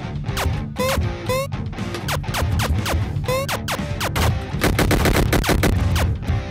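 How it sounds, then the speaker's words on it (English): Rapid gunfire in the indie action game Chaos Tomb, a series of short bursty shots with chirpy electronic tails over continuous background music, loud and close. "I got the gun, which of course was the first gun that I implemented in the game"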